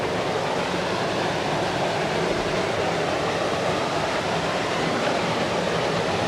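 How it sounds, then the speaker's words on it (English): A waterfall in a slot canyon in Capitol Reef roars as a steady, dense rush of falling water, loud and unbroken with no talk. "There's another waterfall though. This one's even bigger than the last."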